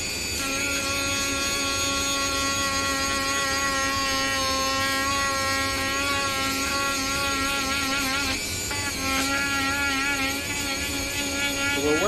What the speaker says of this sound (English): I'm going to take this trusty Dremel.